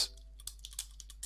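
Faint, quick clicks of keys being typed on a computer keyboard, an irregular run of light taps close by over a low steady hum.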